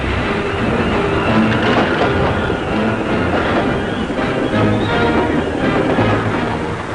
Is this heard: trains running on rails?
yes